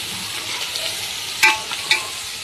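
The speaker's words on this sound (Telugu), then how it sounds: "ఒకసారి అయితే కలుపుకోవాలి" Tomatoes and chicken stirred in a hot pan with salt, a soft steady sizzle broken by two sharper scraping strokes of a utensil, close and without talk.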